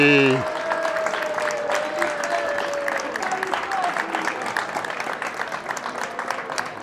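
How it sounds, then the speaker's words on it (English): Sustained applause from a crowd at the Montone Film Festival in Italy, steady and fairly loud, with a brief tone fading at the start. "People are clapping."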